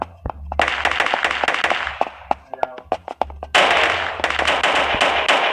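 Rapid bursts of gunfire from the KUBOOM shooter video game crack out in dense, irregular volleys, loud and close, with a heavier sustained stretch of shots near the end and faint voices underneath.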